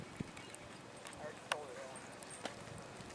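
A horse canters at a distance, with faint, irregular hoofbeat thuds spaced about a second apart over low background noise and murmured voices.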